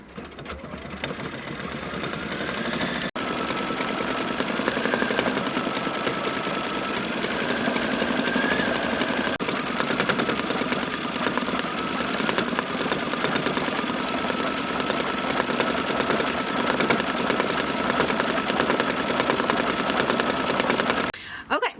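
Embroidery machine stitching flower details on a quilt block, a steady rapid mechanical chatter running unbroken for about twenty seconds at close range, with a soft click near the start and a stop at the end.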